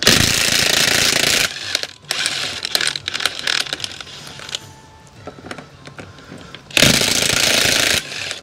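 A Dewalt XR cordless impact wrench rated at 1,200 foot-pounds, set to level 2, removing lug nuts from a Jeep Gladiator wheel: loud sustained hammering bursts at the start and end, with quieter rattling and clicks between them.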